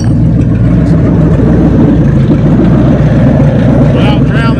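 A 1970 Ford Mustang V8 engine runs as the car moves under its own power, a loud, steady low rumble with rough idle pulsing close by and some faint sounds overhead.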